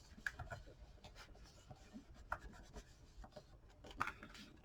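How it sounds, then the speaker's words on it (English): A tool burnishes a paper piece onto a spring-themed mini album. Soft, close scratchy rubbing strokes come in an uneven rhythm, faint and without speech. "So now you can just burnish that in."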